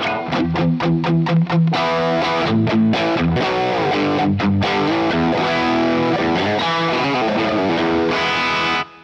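Overdriven electric guitar through a Vox AC20 amp plays loud, gritty chords with a few choppy strums at first, then sustained distorted notes ringing to the end.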